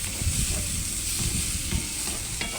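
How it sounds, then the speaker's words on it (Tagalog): Minced onion sautéing in a pan for spaghetti sauce, a dense continuous sizzle with stirring scrapes, close and steady with no talking. "Minced onion. Gisa lang natin ng mabuti, guys, para mag-golden brown."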